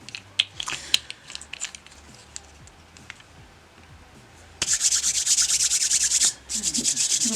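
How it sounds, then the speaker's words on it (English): Hands rubbing together to brush off loose nail glitter, a dry, steady rasping scrub that starts after scattered small taps and continues close and fairly loud with a short pause. "Just rubbing all the glitter off my hands."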